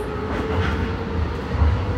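Tokyo Metro Hibiya Line subway train running between Kasumigaseki and Kamiyacho, a steady loud low rumble of wheels and motors from inside the car with faint rhythmic rail clatter.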